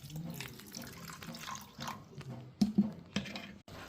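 Water splashing and running for several seconds as it is poured into a cooking pan of fish curry, with a few louder bursts near the end; no talking.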